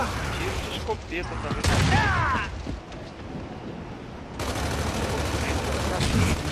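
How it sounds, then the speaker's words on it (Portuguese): Shotgun blasts in a multiplayer video game, sharp bursts of game gunfire and explosions mixed with louder chaotic game sounds, with players talking excitedly over the action. "Tiro de escopeta"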